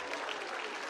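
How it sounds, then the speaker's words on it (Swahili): A crowd at a Menstrual Hygiene Day celebration at Busia Polytechnic applauds as a minister hands out gifts, a dense, even burst of clapping for under a second. "Makofi kwa waziri akiwapatia zawadi."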